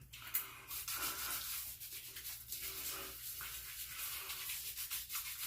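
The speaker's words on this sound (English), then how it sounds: "With the brush. We'll rub this into the scruff." A shaving brush works lather into short stubble for a face lather, a close, steady scratchy swishing in quick back-and-forth strokes.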